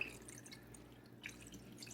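Water trickling and dripping into a pot of chicken for bone broth, a soft, close, uneven patter lasting a couple of seconds.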